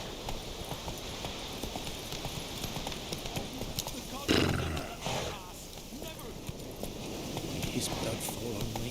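Roach, the horse in The Witcher 3, gallops with continuous rapid clip-clop hoofbeats under game music and ambience, broken by a louder impact-like burst near the middle.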